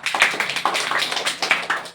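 A class of seventh-grade children claps in a quick, uneven patter of many hands, nearby and moderately loud for about two seconds.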